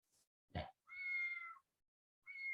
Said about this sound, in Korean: 하여튼 이렇게 고양이 소리가 나죠.